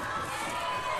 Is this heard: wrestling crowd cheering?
yes